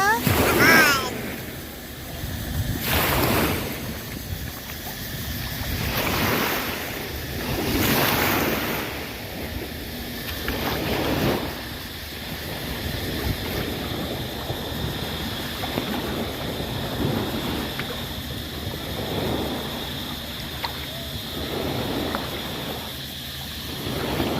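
Sea waves wash onto the sand at Koh Hey beach near Phuket, a continuous rolling surf with wind noise on the microphone and someone talking over it.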